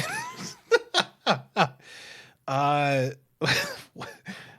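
A voice imitates a music bed, beatboxing short thumping syllables and then drawn-out, cat-like meows, loud and close, with laughter-like bursts around them.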